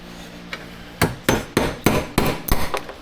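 A hammer drives a punch into an engine part clamped in a vise during an engine teardown, about eight sharp metallic strikes, close and loud, coming faster toward the end.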